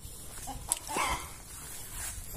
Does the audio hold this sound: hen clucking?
yes